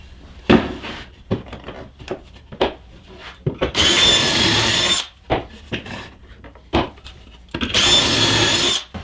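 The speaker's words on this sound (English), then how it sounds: "I'm going to go ahead and drill 3 pocket hole screws" Repeated bursts of a power drill driving pocket hole screws into wood, several seconds each, separated by shorter clicks, scrapes and handling knocks.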